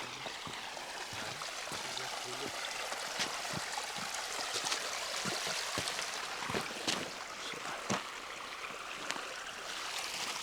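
Steady rushing and bubbling of a flowing mountain stream in Patagonia fills the scene, with occasional splashes and clicks over the continuous wash of water.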